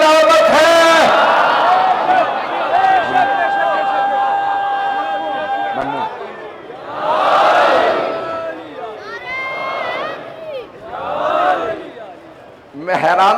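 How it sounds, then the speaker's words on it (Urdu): A large crowd at a Muharram majlis religious gathering shouts slogans in loud, surging bursts of massed voices, interspersed with a single amplified speaker. "آپ میرے تبلیغی جملوں پر بھی نعرے لگا رہے ہیں"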